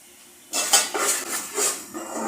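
Spices and beef being stirred in a metal pot for a beef-and-potato curry, a spoon scraping and clanking in short bursts after a brief quiet start, close and clear with no talking.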